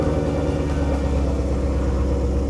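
A 2016 Ford Mustang GT with Cook's long tube headers and a Corsa Sport catback exhaust with quad tips idles loudly and close by, with a deep, steady, throaty rumble.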